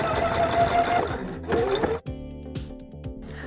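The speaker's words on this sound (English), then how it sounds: "I sewed another seam next to that one" A sewing machine stitches a seam on a small doll dress, loud and close, in one steady motor run that stops and then restarts in shorter bursts.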